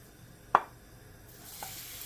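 Olive or vegetable oil heats in a pot for a Lao khao soy sauce: one sharp clack, then a faint, rising hiss of warming oil building up quietly.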